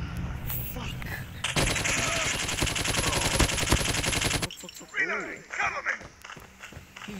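Call of Duty gameplay with a dense, rapid burst of automatic machine gun fire lasting a few seconds, followed by scattered game sounds and a voice talking.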